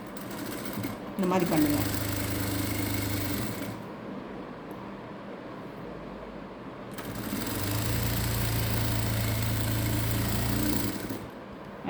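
A sewing machine runs in two long bursts as it stitches down the folded hem at the bottom of a sleeve, steady and close, with a brief spoken remark in between.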